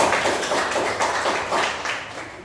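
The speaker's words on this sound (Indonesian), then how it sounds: "Tepuk tangan dulu untuk kalian." Students clapping together in a classroom after a Pythagorean theorem lesson, a short burst of fairly loud, rhythmic group clapping with slight pulsing.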